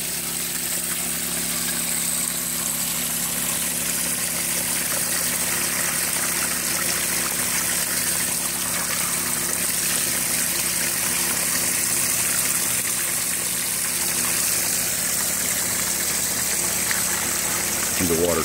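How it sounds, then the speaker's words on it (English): Water pours steadily through a gold sluice box with ripples during a gold prospecting outing, a constant loud rushing flow blended with an engine or pump droning nearby. "See the water change color as it comes through, drops all that gold off into those ripples in the Sluicebox."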